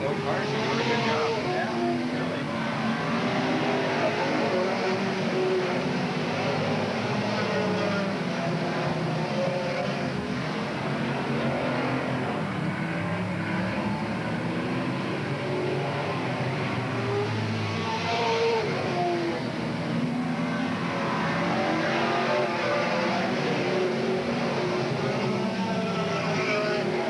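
Race cars circle the Willamette Speedway, their engines droning steadily in the distance beneath continuous excited commentary from an announcer.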